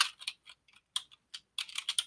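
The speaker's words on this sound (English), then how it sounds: "you can't see what I'm typing because I'm doing it on my other computer." Quick bursts of typing on a computer keyboard, with clustered key taps and short pauses between them, close and crisp with no talking.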